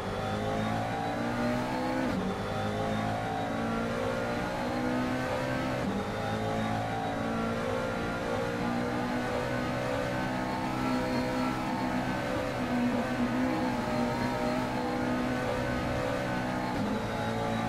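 GT3 race cars running flying laps around Spa in a racing video game, engines droning and revving continuously at high pitch, several cars blending into one sustained, even roar with no voices.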